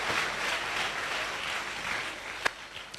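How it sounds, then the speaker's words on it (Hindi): An audience claps together at a church healing meeting, a steady dense patter of many hands that holds evenly throughout, with a couple of sharper single claps standing out near the end. "आप लोग जोर से ताली बजाओ"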